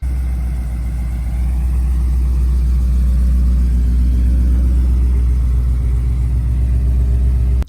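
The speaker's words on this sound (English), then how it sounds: "I'm so happy that the car's back together, that it starts and it idles" A rebuilt Ford Mustang engine idles steadily, a close, continuous low rumble with an even pulsing beat and no talk over it.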